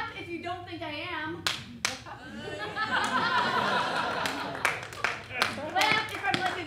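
A comedy club audience at the 2014 Milwaukee Comedy Festival claps in scattered bursts with chuckles and laughter, while a performer keeps talking over it.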